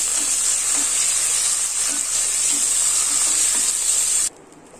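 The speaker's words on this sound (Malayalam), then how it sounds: "ഇനി ഇതിലേക്ക് 2 തക്കാളി കട്ട് ചെയ്ത് ചേർത്ത് കൊടുക്കാം. ഇത് നന്നായിട്ടൊന്ന് വഴറ്റി കൊടുക്കണം." Chopped tomatoes sauté in a hot pan with a loud, continuous close sizzle and faint rhythmic stirring taps, before the frying noise abruptly drops away near the end; no one speaks.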